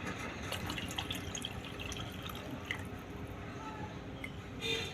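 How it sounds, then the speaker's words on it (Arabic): A cup of tea poured into a mix of scented oil and lemon juice for a homemade wood polish, a soft liquid trickle and splash with faint dripping, quiet and close. "وهحط عليهم كوبايه الشاي"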